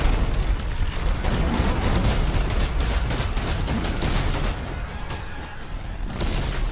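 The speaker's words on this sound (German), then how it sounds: "Der Megabuster macht schon gut Wumms" Megabuster weapon fire in the video game Dead Space 3, a dense, continuous barrage of booming bursts and crackling blasts, loud and close, with no speech.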